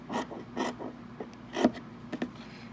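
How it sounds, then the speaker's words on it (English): Scissors trimming the sewn seams of a fabric face mask: a few quiet, close snipping and rasping cuts in an irregular rhythm, with no talking. "And I trim this side."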